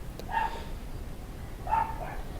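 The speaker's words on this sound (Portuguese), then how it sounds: "Cachorro da desgraça não vai parar de latir, não." A dog barks twice at a distance, two short faint barks about a second and a half apart over a low background hum.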